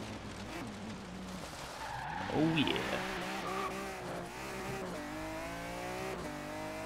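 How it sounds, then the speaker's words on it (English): A BMW drift car skids with squealing tires and a revving engine while free roaming in Forza Horizon 3, steady and loud throughout, with someone talking over it. "Oh, this car sounds extremely good, man."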